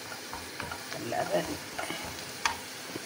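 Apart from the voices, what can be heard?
onions sizzling while frying for mutton biryani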